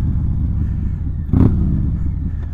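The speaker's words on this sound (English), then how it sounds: "There's nothing that sounds like" A V-twin motorcycle engine fitted with a Star 30 stage 2 cam and a Bassani exhaust rumbles steadily at idle, then gives one short, louder rev burst before settling back into a deep, continuous throb.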